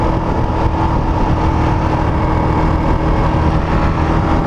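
A 2019 Husqvarna 701 Vitpilen motorcycle engine cruising in second gear, giving a steady, dense drone with road and wind noise throughout and no voices.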